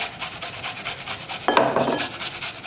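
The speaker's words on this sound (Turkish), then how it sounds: "Şimdi önce 1 adet kuru soğanın içine rendeliyorum" A whole dry onion is rubbed across the finest side of a grater in quick, regular rasping strokes. The scraping is close and continuous, with a brief clatter midway.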